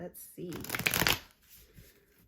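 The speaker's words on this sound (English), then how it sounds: "I'm going to do one more really good shuffle for good measure" A quick riffle of a shuffled tarot deck, a crisp rapid flutter lasting under a second, close by, framed by soft handling noises.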